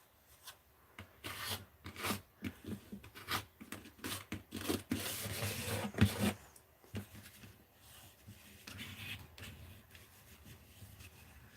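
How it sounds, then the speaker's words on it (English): Palette knife scraping cooled, melted crayon off a surface, a run of short rasping scrapes in uneven bursts, busiest in the middle, close and fairly quiet with no talk. "I'm going to let that cool off and I'm going to scrape this off."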